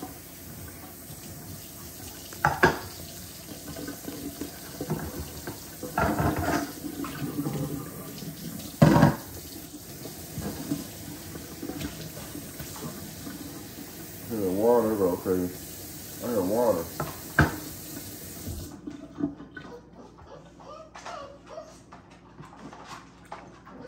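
Tap water splashes intermittently while American Bully puppies are washed in a sink, with sharp knocks, soft puppy whimpers and a person talking over it.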